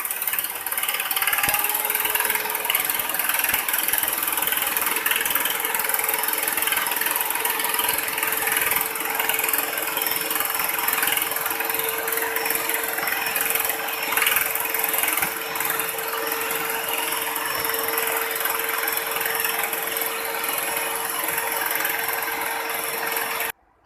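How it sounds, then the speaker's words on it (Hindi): An electric beater whirs steadily at close range through brownie batter made with brown sugar, a continuous mechanical drone with a faint rattle, starting just after the beginning and running unbroken with no talk. "हमने चारों चीज़ों को हम बीट कर रहे हैं।"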